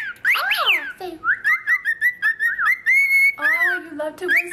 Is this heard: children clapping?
no